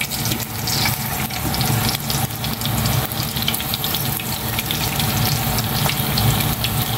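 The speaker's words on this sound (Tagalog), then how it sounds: "Prito na ako." Steady crackling sizzle of food frying in hot oil, loud and close, continuing without pause and with no talking.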